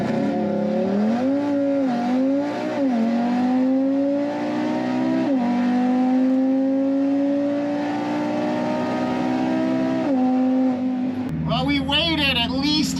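A car is driven hard on a race track during a test-and-tune night, its engine note climbing and falling through gear changes in a loud, close drone, and a person talks over it.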